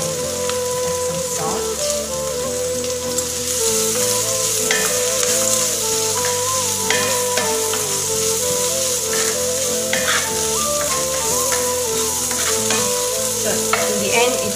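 Millet rice noodles with mustard leaves are stir-fried in a pan, sizzling steadily with repeated scraping and tossing strokes throughout.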